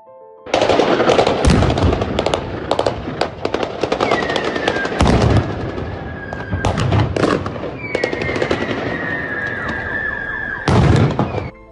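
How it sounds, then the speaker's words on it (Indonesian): Dense bursts of rapid automatic gunfire crackle loudly and almost continuously during heavy fighting in the town of Enerhodar, Ukraine, with several sharper, louder volleys and a wavering siren-like whine rising in the background. "Suara tembakan senapan mesin bergemuruh saat pertempuran sengit pecah di kota Enerhodar"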